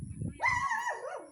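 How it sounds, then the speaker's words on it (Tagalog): A dog in Marinduque gives one short rising yelp that drops into a whine, heard close and alone over low background noise. "May aso eh."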